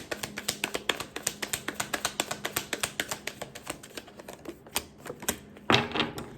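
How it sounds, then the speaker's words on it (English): Tarot cards are pulled and shuffled from a deck in a rapid, even run of crisp close taps and flicks, which slows into scattered snaps and ends in a brief rustle. "I'm going to pull 2 more cards and then we'll go from there."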